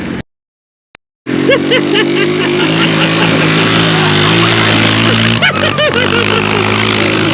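A Kawasaki Bayou 220 ATV engine revs hard at high RPM after a brief silent gap, a loud, close, sustained whine that climbs and shifts pitch through gear changes.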